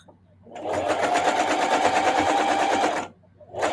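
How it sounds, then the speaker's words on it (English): A sewing machine runs steadily on a holiday wall hanging for about two and a half seconds, starting after a brief pause and stopping abruptly, then starting again at the end; it is moderately loud with no voice over it. "I'm sewing exactly on this little gold line"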